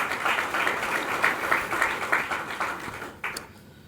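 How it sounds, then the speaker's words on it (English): Audience applause at a public policy speaker event, a steady burst of clapping from a moderately sized crowd lasting a few seconds before tapering off near the end. "A big hand and applause for this."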